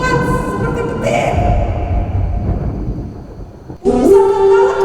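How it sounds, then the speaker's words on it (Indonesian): A loud thunder crash rumbles through a dramatized Bible story in a church service, a long low roll followed by a sudden sharp crack, with a dramatic voice heard over it. "seperti kilat, seperti petir"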